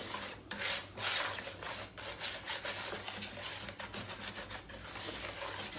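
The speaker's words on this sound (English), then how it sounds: "So I'm going to whisk this together." Steady scraping, rubbing strokes of a whisk against a small disposable container as Thanksgiving ingredients are mixed, close and continuous with uneven rhythm, no talking.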